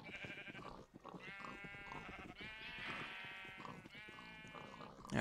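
Sheep bleating in Minecraft, several wavering, nasal bleats that overlap and repeat across the stretch, fairly quiet and close, with no talking.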